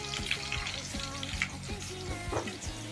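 Eggplant and fenugreek curry frying in a pan gives a steady sizzle, with light stirring and scraping sounds running through it; no voices over it.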